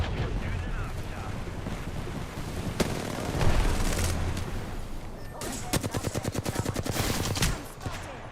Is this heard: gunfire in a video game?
yes